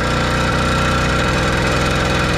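Kent Sea Change 80cc motorized bike engine accelerating, a loud, continuous two-stroke drone with a rapid pulsing firing rhythm, close up and steady throughout.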